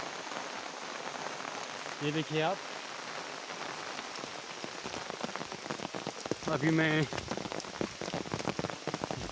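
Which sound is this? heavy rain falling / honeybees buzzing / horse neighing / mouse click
heavy rain falling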